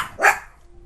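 A single sharp dog bark rings out near and loud in a Game of Thrones video game scene, then fades quickly into a quiet backdrop.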